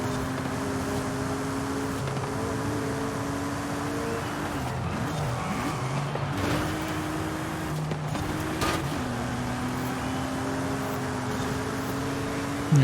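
A race car in Forza Horizon 5 drives through a seasonal championship event, its engine droning steadily with rising and falling revs, gear shifts and brief tire scrubs, loud and continuous with no talk.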